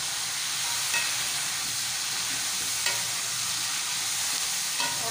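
Chopped tomatoes hitting hot oil in a frying pan while cooking Pakistani chicken biryani, a steady bright sizzle with faint stirring clicks, continuous and close without speech.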